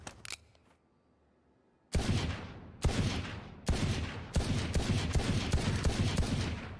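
Pistol shots in the video game Valorant: after a short quiet pause, four loud, sharp reports ring out, the later ones fired faster and close together, each with a bright crack and a short tail.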